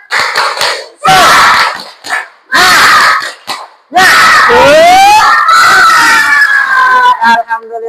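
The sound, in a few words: children doing a spirit clap cheer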